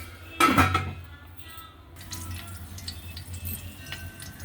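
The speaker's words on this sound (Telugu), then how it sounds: "ఇంక ఇలా మూత పెట్టేసి ఉంచేస్తాను." A metal lid set onto a cooking pot of tomato and eggplant curry, one sharp clattering clank near the start that quickly fades into quiet kitchen background with faint drips.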